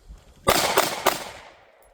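Canik Prime pistol fired in quick succession, three loud close gunshots about a quarter second apart, each ringing off with a short outdoor echo.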